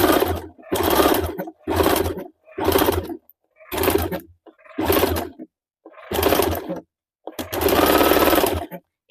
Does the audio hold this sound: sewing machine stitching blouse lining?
yes